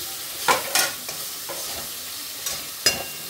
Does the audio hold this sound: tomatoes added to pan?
yes